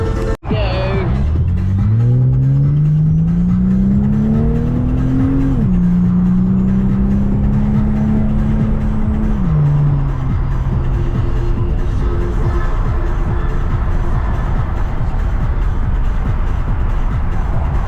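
A supercharged Holden VY Commodore accelerates hard on a highway. Its engine roars loudly from inside the car, pitch climbing through two upshifts before settling into a steady cruising drone.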